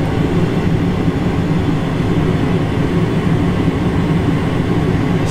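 Steady, loud airliner cabin drone during a flight to Abu Dhabi: an unbroken broadband roar of engines and rushing air that holds level throughout, with no voices.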